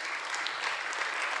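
A church congregation applauds during a Sunday sermon with steady, dense clapping that holds at an even level throughout, with no voice over it.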